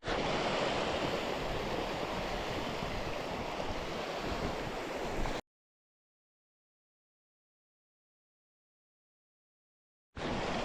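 A stream rushes at a trail crossing in the mountains, a loud, broad, continuous wash of flowing water close by that cuts out abruptly midway, leaving silence before returning at the end.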